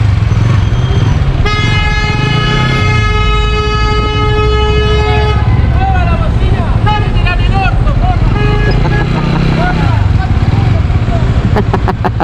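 A loud vehicle horn blares in one long sustained blast, followed by shorter wavering honks and traffic rumble.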